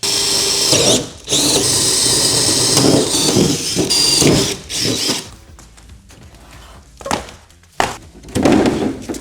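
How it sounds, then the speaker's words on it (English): A drill fitted with a 1-inch hole saw bores through a composite van partition, with a loud, close whirring grind in several bursts and brief pauses, then sputtering, uneven spurts as the cut finishes; nobody speaks. "This is just a 1-inch hole saw."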